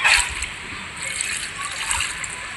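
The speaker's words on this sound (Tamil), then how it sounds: "அரிசி களைஞ்ச தண்ணி அதையும் வச்சுருக்கோம்," Rice-washing water being poured into a pot of chicken gravy: a close, steady splashing pour with gurgling and sloshing, loudest at the start and continuing throughout.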